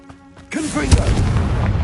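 A Confringo fire spell explodes in Hogwarts Legacy, a sudden loud boom after a brief quiet lead-in, followed by a rumbling, crackling burst that sustains to the end.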